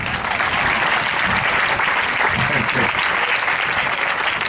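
A church congregation applauds, with steady, dense clapping from many hands throughout, loud and close, without a break.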